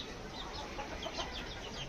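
Chickens kept on a rooftop cluck and chirp in short scattered calls over a steady background hiss, fairly faint and close, with no one speaking.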